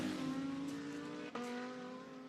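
GT2 race cars run side by side out of a corner at Misano, engines roaring loud and steady with a brief dip and sharp gear-change blip midway, tones sustained throughout.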